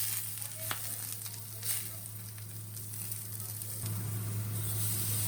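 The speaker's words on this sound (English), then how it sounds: "Jiashi into a pot and turn on gas. Jiashi is fat of beef. Put the naganegi in a pan and bake." Beef fat and Japanese leek (naganegi) sizzle and fry in a sukiyaki pan over a gas flame, a steady close crackle with a constant low burner hum, brief clicks of stirring, no talk.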